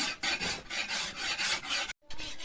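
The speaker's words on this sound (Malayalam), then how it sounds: "അടുത്തത് അരം ഉപയോഗിച്ച് നന്നായിട്ടൊന്ന് രാഗി എടുക്കുകയാണ്" A knife blade being sharpened with a metal file, rapid repeated rasping strokes close up and loud, with a brief pause near the end before the filing resumes.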